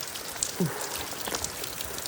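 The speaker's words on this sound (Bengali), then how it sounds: "বৃষ্টি থামার নামই নিচ্ছে না বাবা" Heavy, persistent rain falls in a hill town in Himachal, a fairly faint, steady wash of drops with a few scattered louder patters.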